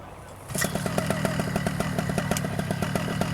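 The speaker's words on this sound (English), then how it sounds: "We're going to use that motor's power just a little bit to help you taxi" A paramotor engine fires up and settles into a steady, buzzing idle with rapid regular pulses, close and fairly loud, held at low power for taxiing.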